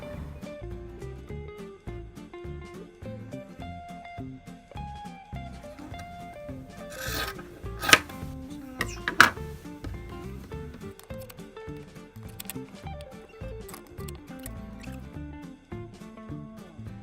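Scissors cutting cotton fabric for a kitchen valance, quiet rasping snips and rustles with a couple of sharper crisp cuts partway through.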